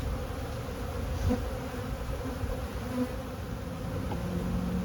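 Honeybees buzzing around an open hive as it is being split, a dense, steady hum of many bees close by with no voices.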